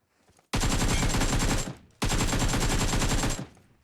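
Two long, loud bursts of automatic gunfire from the mobile battle-royale game PUBG Mobile, each lasting over a second with a rapid even rate of fire, separated by a short gap and heard close up.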